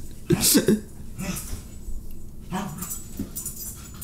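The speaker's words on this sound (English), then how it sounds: "Your dog is going nuts." A dog whimpering and yelping in short excited bursts, fairly close, with people chatting and laughing around it during a casual podcast-style conversation.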